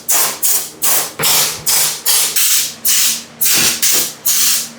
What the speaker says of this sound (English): I'm gonna be blasting it with a air compressor or the PC electronics cleaner air